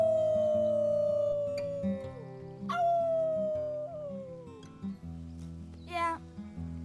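Voices in the video game Life is Strange 2 join in a team howl imitating wolves, with long sliding howls, then a few shorter rising yelps, loud and close over a quiet music bed.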